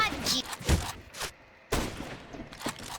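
Sharp gunshot bursts from the video game CS:GO Danger Zone ring out loud and close, a few clustered volleys separated by short gaps.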